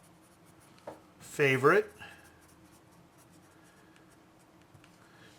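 A Staedtler Norica graphite pencil scratches softly across paper in faint, short strokes, and a brief spoken word interrupts near the start.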